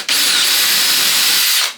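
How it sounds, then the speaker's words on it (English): A power drill bores a hole into a carved wooden crocodile-head bird feeder, a single steady high whine lasting under two seconds, close and loud with no voices. "And we're going to drill some holes."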